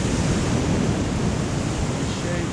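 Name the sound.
ocean waves breaking on Covehithe beach, Suffolk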